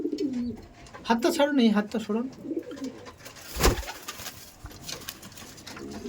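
Racing pigeons coo in a loft, with throaty bursts close by and a brief flutter midway, while people talk over them.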